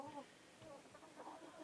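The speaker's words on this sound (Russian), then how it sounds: "Это, по-моему, у меня петух тоже." Rooster in a snowy winter farmyard during a blizzard, giving faint, distant clucking calls in short bursts over wind noise, with no speech in the foreground.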